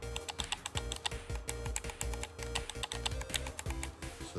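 Sharp clicky mechanical switches on a modded DualShock 4 controller are pressed in quick, irregular bursts close to the mic, a dense run of crisp ticks with no talking.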